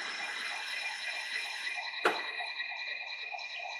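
Lathe cutting a single-point thread on hydraulic cylinder work, a steady machine hum with bright tonal whine and a single sharp click near the middle, no talk.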